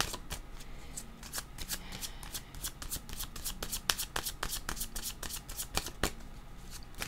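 Playing cards are handled and shuffled close by, giving a quiet, steady stream of sharp riffling snaps and soft shuffling at an irregular rhythm, with no voices.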